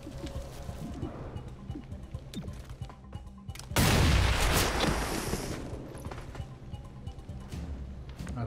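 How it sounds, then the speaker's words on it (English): A bomb in XCOM: Chimera Squad is shot and explodes in one loud, broad blast that rolls off over a few seconds, following scattered lighter clatter and shots. "throw your bomb. And then shoot your bomb."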